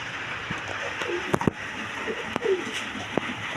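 Pigeons of the Spanish and German Beauty breeds coo softly at close range, with a few brief calls and scattered small knocks over a low, steady background hum.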